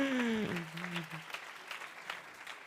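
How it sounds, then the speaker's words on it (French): A conference audience in France applauds: steady clapping from many hands fills the room at moderate loudness, while a voice speaks briefly over the start. "vous pouvez applaudir si vous voulez"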